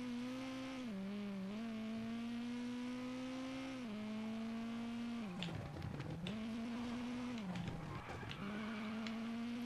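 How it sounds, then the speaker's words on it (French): A rally car engine in the video game WRC 9 drones at steady revs, dipping and climbing through gear changes, with bursts of tyre squeal and skidding in the middle, loud and continuous. "Les bruits de moteur sont bien."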